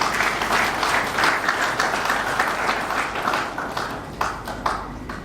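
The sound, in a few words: audience applauding deputies and senators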